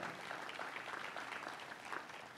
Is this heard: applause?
yes